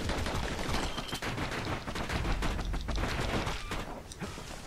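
Rapid gunfire from the Kid's dual guns in the game Bastion, a dense stream of close, sharp shots firing in quick succession without a break, with a few heavier impacts mixed in.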